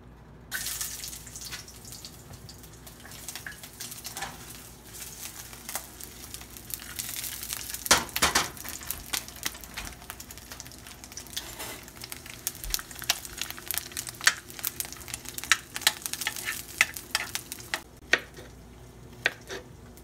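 Sausages sizzle in hot oil in a home kitchen pan while fried rice is being made, a steady crackling fry under sharper pops and spatters, with no voices.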